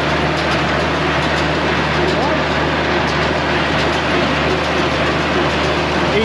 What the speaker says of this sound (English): tractors just sound sweet all the time